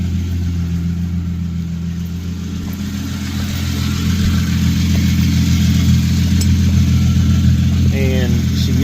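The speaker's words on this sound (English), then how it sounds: "Started it up, threw it in first." A Hyundai Genesis Coupe, just fitted with a new clutch and slave cylinder, idles in first gear with a loud, steady low engine hum that grows slightly fuller partway through.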